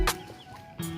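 Chickens cluck nearby, with two short bursts about three-quarters of a second apart.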